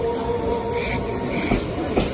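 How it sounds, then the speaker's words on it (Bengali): A train pulling into a station, heard as a steady broadband rumble with faint squeals and brief clanks, close by and fairly loud, with no talking over it. "আমাদের কিন্তু ট্রেন চলে এসেছে আর আমরা এই ট্রেনে করে এখন যাবো রানাঘাট"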